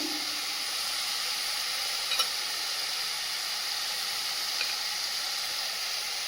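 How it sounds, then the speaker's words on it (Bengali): Tomato spice paste frying in a pot with coriander powder: a steady, even sizzling hiss heard close up, with one or two faint utensil clinks and no voices. "টমেটো পেস্ট মশলাটা ভালোভাবে ভেজে নিয়েছি এবার এই পটে দিয়ে দেবো ধনিয়া গুঁড়ো"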